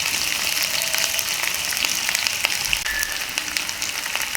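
Chopped onions frying in hot spiced oil, a steady close sizzle and crackle with faint stirring, continuing without pause.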